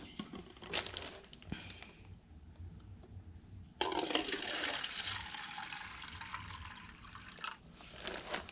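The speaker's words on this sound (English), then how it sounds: "Let's just pour some water in here." Water is poured into a seedling starter tray, a steady splashing, filling flow that starts abruptly midway and continues close and fairly loud, following quieter handling sounds before it.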